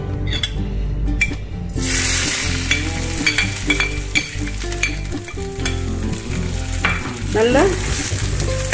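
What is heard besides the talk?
ground paste sizzling as it is added to hot oil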